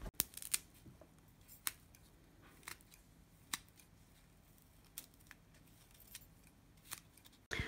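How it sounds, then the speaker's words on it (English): Scissors snipping through soft foam to cut small thick discs, a series of faint, sharp, irregularly spaced clicks and snips over a quiet background. "So we're going to cut 2 little discs out like that."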